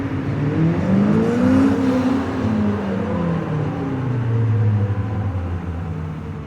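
A car engine in the video game Forza Horizon 5 revs steadily, its pitch climbing and dipping through repeated accelerations, loud and continuous with no voices.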